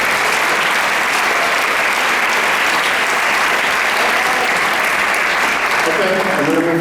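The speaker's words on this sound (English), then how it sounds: "Round of applause for all those people too." Loud, sustained applause from a crowd at a screening discussion for the Hot Doug's movie, a dense, even roar of clapping with some cheering and voices near the end.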